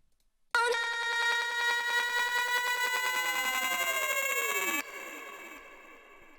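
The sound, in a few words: vocal phrase with Soundtoys PanMan panning effect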